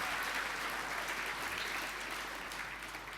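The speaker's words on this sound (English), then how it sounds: "Can we give Phil Alexander a great round of applause?" A round of audience applause for Phil Alexander at the MOJO Honours awards ceremony, a steady wash of many hands clapping at moderate distance that fades slightly toward the end.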